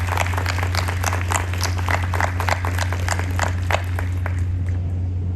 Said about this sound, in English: Another round of applause for all of those staff and faculty.